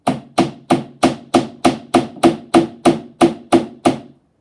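A hammer's round face strikes the rim corner of a shield in a steady run of about a dozen evenly spaced, close, ringing taps, each decaying quickly before the next, with no voices.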